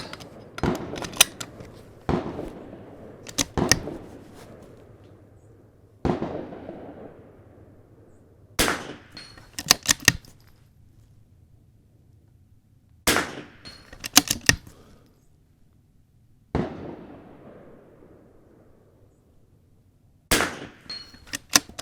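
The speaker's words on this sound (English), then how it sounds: "I'm gonna go ahead and just shoot some rounds here." Sharp rifle shots on a .22 range during an NRL22 course of fire, single cracks and quick pairs spaced a few seconds apart, loud and close, each with a short fading tail and no voices.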